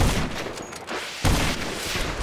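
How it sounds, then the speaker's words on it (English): Fire shotgun shots in an online shooter video game burst in two loud, close volleys, the second sharper, with no talk. "how can you shoot a fire shotgun that far?"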